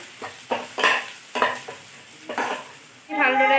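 Spice masala frying in a pan for prawn malai curry gives a close, steady sizzle under a run of scraping, clattering stirs. A louder burst of sizzling rises at the end, and no one speaks.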